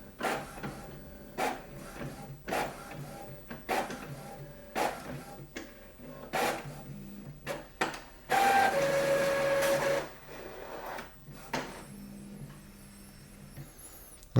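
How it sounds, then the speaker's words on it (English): An Epson WF-2930 printer scanning and copying a page: a series of mechanical clunks and whirring motor passes, then a longer loud whine of the scan head, with quieter pauses between, close by and alone. "Just let the printer do its thing."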